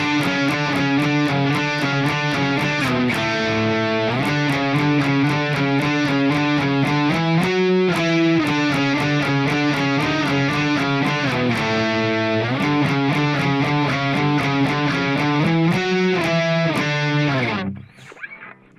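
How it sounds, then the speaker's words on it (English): Heavily distorted electric guitar plays rapid octave swipes in a steady driving rhythm, loud and continuous, ending with a brief fade as the notes ring out. "the lead guitar is playing these octave swipes now"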